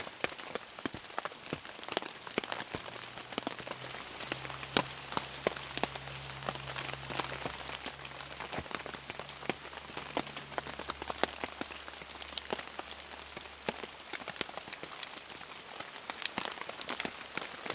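Rain patters on a tent at night in the woods, a close, steady spray of many small drops with sharper individual taps scattered throughout and a faint low hum underneath.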